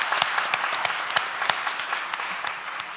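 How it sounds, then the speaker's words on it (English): An audience at a public talk in London applauds steadily, a dense wash of many hands clapping with scattered sharper individual claps, sustained at an even level throughout without any voices. "Please give her a round of applause."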